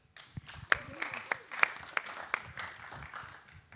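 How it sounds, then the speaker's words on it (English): An audience at the FOSS4G Prizren 2023 open-source geospatial conference applauds a speaker, scattered claps with a few sharp close ones, thinning out within seconds, with voices murmuring underneath. "applause for Tom Credelis."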